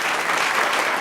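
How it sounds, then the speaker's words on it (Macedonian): Loud, dense audience applause fills the whole moment at a televised 15th-anniversary show, a steady wash of clapping hands without any voices on top. "Аплауз!"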